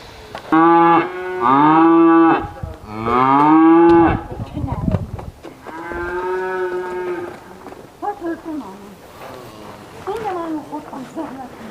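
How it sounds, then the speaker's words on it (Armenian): Cows moo loudly and close by, several long drawn-out calls, some overlapping, followed by quieter, shorter moos. "Ժամանակի շուտ են եկել կովերը։"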